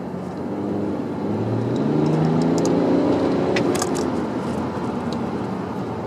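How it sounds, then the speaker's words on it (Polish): A BMW E91 330xd diesel estate accelerates from about 60 km/h, its engine note rising through the gears with a smooth, building drone heard from inside the cabin before easing off. "przyspieszenie nawet z tych 60 do prędkości wyższej nie zajmuje dużo czasu"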